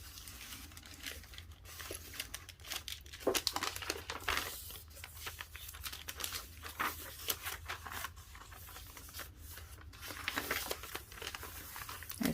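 Piano roll paper in a journal crinkles and rustles close up, with quiet, irregular crackling handling noises throughout and no talking.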